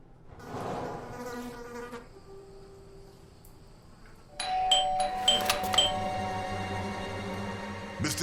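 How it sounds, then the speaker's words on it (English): Doorbell in the video game Blues and Bullets ringing: a bright, clear chime sequence that rises in loudness over a steady insect-like buzz. "I thought I should use the doorbell so I wouldn't startle you"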